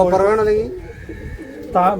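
Racing pigeons from Kozhikode coo up close, with a deep throaty coo at the start and another after a brief quiet pause near the end.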